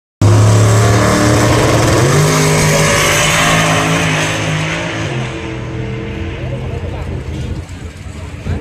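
Drag racing cars, some with rotary or Cosworth engines, roar loudly as they accelerate hard at a Malta strip, a sustained close engine blast that gradually fades into the distance.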